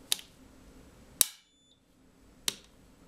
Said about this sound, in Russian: Автомат отключился.